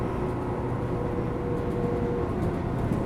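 A Tobu Tojo Line 10000 series train runs between Ikebukuro and Asakadai on a semi-express service, heard from inside as a steady loud rumble and roar of wheels on track, constant throughout.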